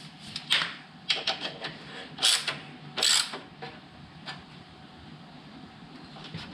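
A ratchet tightens a screw on the engine skid plate of a Triumph Street Triple motorcycle, giving a close run of sharp mechanical clicks in uneven bursts, some louder pulls standing out.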